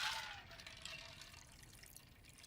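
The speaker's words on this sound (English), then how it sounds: "we'll just pour this like this" A cocktail pours from a shaker with a built-in strainer, a brief liquid splash and trickle that fades to faint dribbling.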